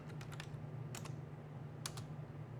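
Keys clatter on a computer keyboard in a few quick clusters of taps separated by pauses, quiet and close over a low steady hum.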